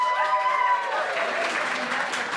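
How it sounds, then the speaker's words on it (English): Audience at an improv musical comedy show applauding, a dense steady wash of clapping with a few cheers and whoops riding over it, fairly loud and sustained. "Round of applause."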